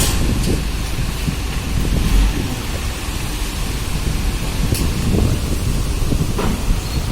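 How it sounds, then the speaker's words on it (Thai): Strong wind roars steadily outdoors and buffets the microphone, with low rumbling gusts and scattered crackles throughout and no talking. "โอ้ ลมแรง"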